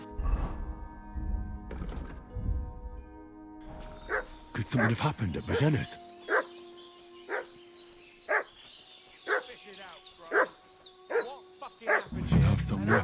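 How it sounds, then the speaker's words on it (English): A dog barks repeatedly in the Kingdom Come: Deliverance II video game, a series of evenly spaced, moderately distant barks that follow someone speaking. "Dog's barking right now."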